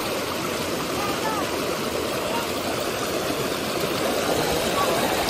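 Constant broadband roar of water pouring down at the foot of a waterfall on a hike, steady and loud throughout with no breaks.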